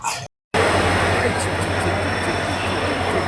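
The Howrah–Puri Superfast Express rolls into platform 22 of a busy station with a steady, loud rumble and hum of wheels and coaches, after a brief moment of silence at the start.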